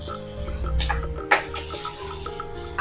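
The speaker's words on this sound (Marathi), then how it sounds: "त्याच पॅनमध्ये आपण तेल घालून घेतलेलं आहे. तेल छान तापलेलं आहे. कांदा घालून घेऊया." Chopped onion dropped into hot oil in a pan while cooking prawn masala, giving a steady broadband sizzle with a sharp crackling burst as the onion hits the oil, close and continuous throughout.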